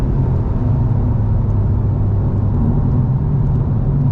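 BMW M4 Competition engine droning steadily from inside the car on track at Thruxton Circuit, a loud, constant low rumble and whir with no break.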